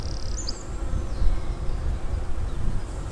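Honeybees buzzing around a newly set up hive, a steady dense hum from many insects close by, with an occasional higher whine from a bee passing near.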